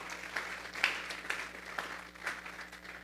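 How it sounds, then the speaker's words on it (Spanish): A church congregation applauding to God during a Spanish-language sermon, a soft, fairly distant patter of claps with a few sharper individual claps standing out above a low room hum. "Denle una ofrenda de palmas a Dios en esta hora entonces."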